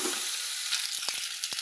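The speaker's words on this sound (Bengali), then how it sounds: "দিয়ে ভালো করে এটাকে ভাজবো যতক্ষণ না পটলটা নরম হচ্ছে।" Pointed gourd fries in a pan with salt and turmeric, giving a steady close sizzling hiss broken by a few short stirring clicks and scrapes. No one speaks.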